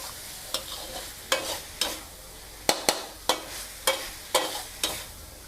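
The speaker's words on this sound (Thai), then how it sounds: "ผัดให้ใบยี่หร่าสุกค่ะ" Spicy scraped fish with pea eggplants, holy basil and cumin leaves is stir-fried in a hot pan. A spatula scrapes and clatters in about a dozen sharp strokes over a soft steady sizzle, with no talking.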